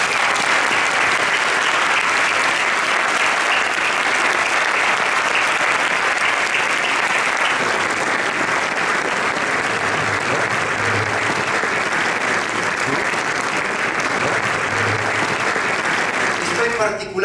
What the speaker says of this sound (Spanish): le aplaudimos con emoción esta mañana